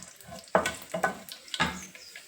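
Cumin, mustard seeds and dried red chillies fry in hot oil for a curry, giving a steady close sizzle with a few louder crackling bursts and stirring noises, no talking.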